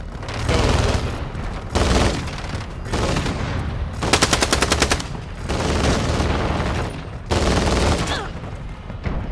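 Gunfire in Modern Warfare 2 crackles in loud bursts, with repeated sustained automatic fire and a rapid rattling volley in the middle, with a voice faintly underneath.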